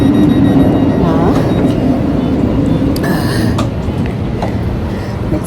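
Interior rumble of a Swiss scenic train under way, a steady loud low roar with rattling and brief higher squeals, continuous through the passage.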